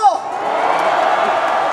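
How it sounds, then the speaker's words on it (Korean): A rally crowd in Daejeon breaks into applause and cheers just after a brief amplified voice, producing a dense, even wash of clapping and shouting that stays loud throughout. "다 같이 박수 한번 드릴까요?"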